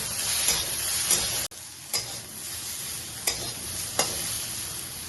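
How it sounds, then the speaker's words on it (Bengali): Bitter gourd frying in oil with salt and turmeric in a pan, a steady close sizzle punctuated by a few sharp clicks of a spatula against the metal, with no speech. "উচ্ছেগুলোকে বেশ করে ভেজে দেব"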